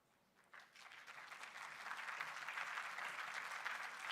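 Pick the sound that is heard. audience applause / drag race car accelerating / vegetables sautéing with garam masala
audience applause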